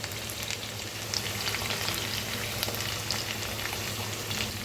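Potato and okra frying in a pan with masala give off a steady, fairly soft crackling sizzle, continuous throughout, with no talking.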